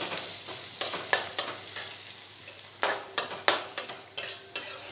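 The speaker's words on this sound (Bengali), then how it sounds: "দিয়ে পেঁয়াজগুলো একটু ভালোভাবে ভেজে নেব।" Chopped onions and slit green chilies fry in a pan, a soft background sizzle broken by a regular series of sharp spatula scrapes and taps, about a dozen strokes, close and clear with no voices.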